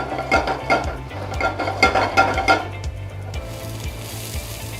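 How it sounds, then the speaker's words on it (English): Chopped green chili and ginger sizzle and fry in a hot pan while a utensil stirs and clinks against the metal, steady close crackle with brief scraping taps. "a little bit of chopped green chili. Saute till you get a slight golden brown color."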